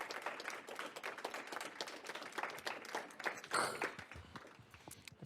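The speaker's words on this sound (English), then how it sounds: "Keep clapping." Audience clapping fills a small event space during a weekly security news segment, a steady patter of many hands at moderate distance with a few cheers rising midway before it thins out.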